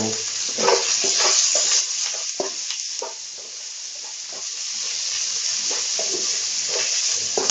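Vegetables for hakka noodles fry over a high flame in a steady loud sizzle, with stirring and scraping strokes breaking through now and then.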